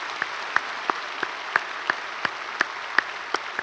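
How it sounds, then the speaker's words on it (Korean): A church congregation gathered for an early-morning special service claps, with a broad wash of applause carrying regular sharper claps at a steady rhythm. "우리 박수로 우리 축복하겠습니다"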